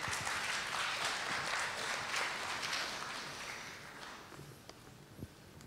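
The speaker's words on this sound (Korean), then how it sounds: "큰 박수로 맞이해주시기 바랍니다" An audience at a security conference session applauds to welcome a speaker, with dense, fairly loud clapping that gradually thins and fades away, leaving a few scattered claps.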